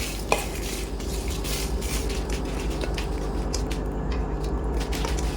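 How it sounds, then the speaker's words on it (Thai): Chilies being dry-roasted over medium heat in a pan, a continuous scraping and rustling with occasional clinks of a utensil against the metal. "ขั้นตอนแรกเราก็จะมาคั่วพริกก่อนนะครับ"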